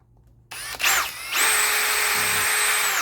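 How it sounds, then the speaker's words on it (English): A power drill spins up with a brief whir, then runs at a steady high-pitched whine as it bores into a Husqvarna-style G272 chainsaw part for twin spikes, close and loud. "So I'll drill for that."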